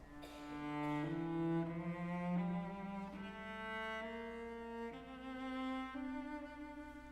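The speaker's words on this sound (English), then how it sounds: "Here is a minor scale." A minor scale played note by note on a sustained, pitched instrument, rising in clear steps across about seven tones, close and alone with no voices.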